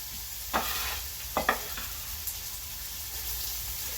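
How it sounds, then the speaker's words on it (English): Chopped onion and golden garlic sauté in a pan as the base for a pork rib ragu. A steady, close sizzle runs throughout, broken by a few soft scrapes of stirring. "we're going to saute this just until the onion becomes nice and soft, translucent"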